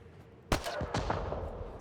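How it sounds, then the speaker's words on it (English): Sci-fi weapon fire in Mass Effect: Andromeda on the ice planet Voeld, a sharp blast followed by several quick shots with a ringing, echoing tail, fairly close and moderately loud with no talk. "Let's start shooting things."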